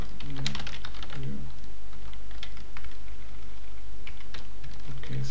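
Code for a share button in an Android app is typed on a computer keyboard, a close, busy run of uneven key clicks and taps over a steady background hum.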